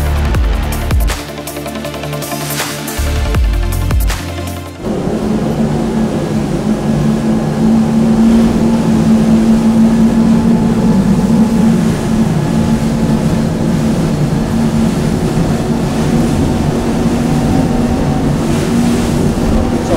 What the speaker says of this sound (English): full performance of this fantastic Michael Peters hull on the Verve 47 Azimut yachts, 450 Mercury racing for a total of 1800 horsepower